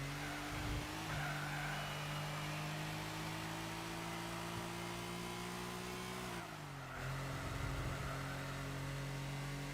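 A completely stock Suzuki Cappuccino in Gran Turismo 4 drones steadily at high revs through a race, its engine note holding a constant pitch, then dipping briefly and climbing again as it shifts or brakes.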